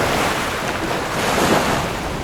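Ocean waves rush against a fast-moving sailboat on an offshore passage in the Gulf Stream, with wind buffeting loudly and steadily and no voices.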